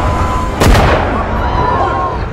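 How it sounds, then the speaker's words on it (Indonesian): A single loud gunshot goes off in a film, a sharp blast that rings out against a dense, noisy background. "Matt melepaskan tembakan agar warga melepaskannya."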